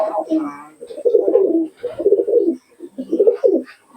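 Giribaz pigeons in a loft room coo in several soft, throaty bursts, close by and alone, one after another with short gaps.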